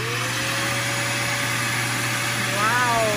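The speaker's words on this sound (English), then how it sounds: "I'm going to show you how I'm going to vacuum this." A vacuum cleaner runs with a steady, close, even roar and a low hum, cleaning out an HVAC drip pan, its pitch wavering slightly near the end.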